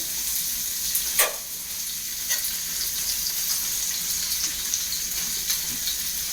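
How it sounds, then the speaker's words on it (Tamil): Onion and green chilli with curry leaves sauté in hot oil in a pan, a steady broadband sizzle running throughout, with a few brief stirring scrapes near the start and middle. "இது நல்லா கொஞ்சம் வதக்கணும் வதக்கினாத்தே டேஸ்டாக இருக்கும்."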